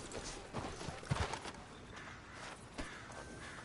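Video game horse hooves clopping at a steady walk, fairly faint, with a few sharper knocks and some soft background noise.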